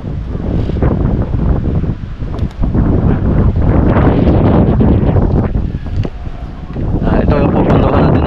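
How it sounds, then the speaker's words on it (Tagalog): Strong wind buffets the microphone outdoors beside a boat being repainted, a loud continuous roar with gusts that swell and dip throughout, masking most other sound. "lakas ng hangin."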